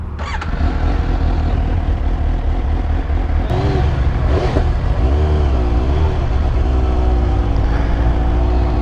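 A 2018 Suzuki GSX-S750 motorcycle engine runs loud and close, holding a steady idle with a couple of brief revs rising and falling.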